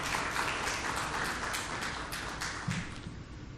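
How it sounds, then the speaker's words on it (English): An audience at a finance panel event gives a round of applause, dense clapping that is strong at first and gradually thins out over a few seconds. "A round of applause for him, please."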